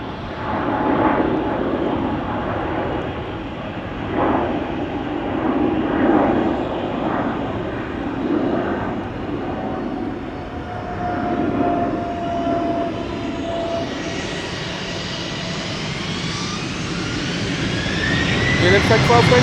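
Embraer 190 jet airliner at Amsterdam Schiphol Airport rumbles with a loud, sustained engine roar that builds into a rising whine toward the end, with an announcer talking over it.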